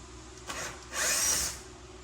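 Power drill backing out the last screw from a Mercedes-Benz C300 bumper during removal, two short whirring bursts close by, the second longer and louder, with no talk.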